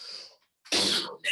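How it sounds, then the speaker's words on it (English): A single sharp sneeze bursts out in a room during an emergency-preparedness class, loud and close, preceded by a brief inhale and followed by a short trailing sound. "Did you sneeze?"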